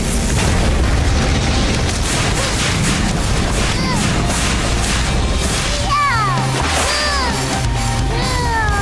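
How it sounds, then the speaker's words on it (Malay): A loud, booming cartoon lava explosion from BoBoiBoy rumbles continuously, with crashing debris and whooshing, swooping effects layered on top near the end. "Letupan lava!"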